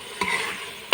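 Assamese-style pork curry sizzling in a pan with oil, a short burst of frying hiss and a quick scrape of stirring, then another brief clatter at the end, faint and close.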